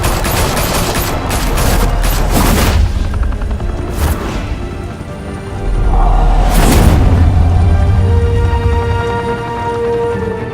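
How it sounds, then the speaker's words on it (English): A sustained gunfight from Batman: The Telltale Series: several weapons fire rapid, overlapping volleys with loud booming bursts, easing briefly before a second heavy wave of shots erupts near the midpoint. "Open fire!"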